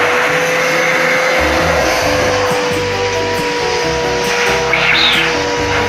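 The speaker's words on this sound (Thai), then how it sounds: "เราก็จะใช้เครื่องดูดฝุ่นนะคะดูดฝุ่นออกนะคะ" A vacuum cleaner draws dust out of a disassembled electric fan's motor housing, giving a steady, loud, close suction whine that runs without a break the whole time, with no talking.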